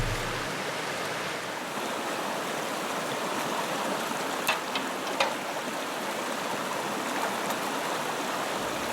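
Creek water flows steadily in a broad, even rush along a gold-prospecting trail, with a couple of faint clicks or knocks partway through and no talk.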